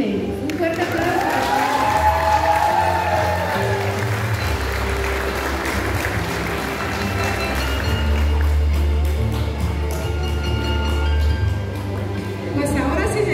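Crowd applause for a six-year-old at a children's pageant runway, a dense sustained roar of clapping with cheering and a busy low rumble, loud and continuous throughout as voices mix in.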